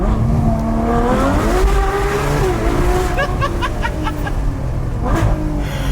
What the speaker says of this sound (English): There is nothing like a massive V12, especially a Ferrari V12, in terms of the way it sounds.